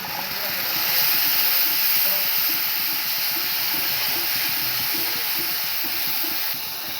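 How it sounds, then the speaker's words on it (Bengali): Water poured onto spiced masala frying in a pan for a tangra fish dish, bursting into a steady, loud steaming hiss with bubbling that holds for several seconds. "জল দেওয়ার সাথে সাথেই ফুটে গেছে জল।"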